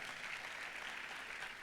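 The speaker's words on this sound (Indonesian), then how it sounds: "Tepuk tangannya yang meriah buat Tuhan kita." Church congregation applauds, a soft, distant wash of many hands clapping that stays steady and faint throughout.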